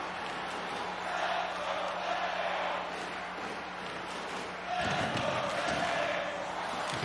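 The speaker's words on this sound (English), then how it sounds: "And the crowd is chanting, "Let's go, Bitey."" A hockey arena crowd chants loudly in a rhythmic, roaring swell that rises, dips and surges again, with a commentator's voice sounding over it.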